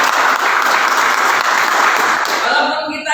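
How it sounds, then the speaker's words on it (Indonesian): A church congregation bursts into loud, dense applause, a continuous roar of many hands that fades slightly toward the end. "Tepuk tangan buat Tuhan."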